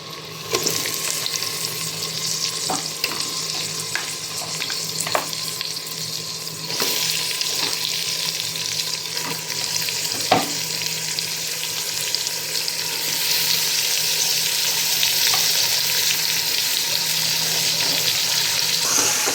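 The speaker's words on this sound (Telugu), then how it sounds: "ఇప్పుడు ఈ అల్లం వెల్లిపాయ పేస్ట్ వేగాక మనం ఇందులో ఈ తలకాయ కూర వేసేద్దాం" Goat head meat frying in oil with ginger garlic paste, a steady loud sizzle running throughout with occasional clinks and stirring scrapes from the pan.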